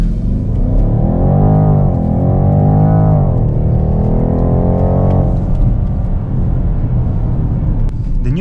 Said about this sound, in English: even the sound is not bad for a V8